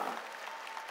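A church congregation applauds during a Korean sermon, a brief, soft wash of many hands clapping together, steady and somewhat distant in a large room.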